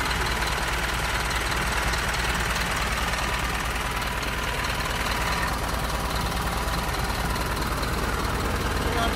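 An Isuzu Forward closed van's diesel engine idles steadily and loudly throughout, a constant low rumble with a faint knocking texture and no break in sound.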